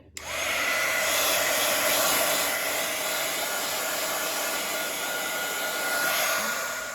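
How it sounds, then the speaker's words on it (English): A steady, loud blowing whir of a heat gun drying paint runs continuously after a quick start, with a faint high whine on top and no talking. "I'm going to use my heat gun here."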